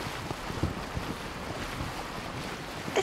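Boat racing fast over water in Assassin's Creed Origins, a steady rushing wash of water and wind with no talk.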